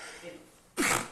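A single sharp sneeze bursts out in a courtroom during a criminal trial in Atlanta, loud and abrupt after a stretch of quiet murmuring talk.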